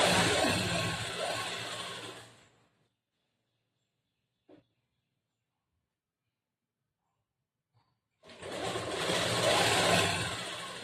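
A sewing machine stitches a plain blouse with large stitches, running in two loud, steady bursts separated by a long quiet stretch, with no talking.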